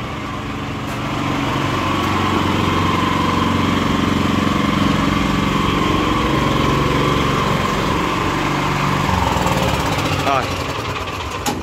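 A small four-wheel, two-axle utility vehicle idles on its petrol engine, a steady close mechanical drone with a light rattle that runs throughout, while someone speaks over it.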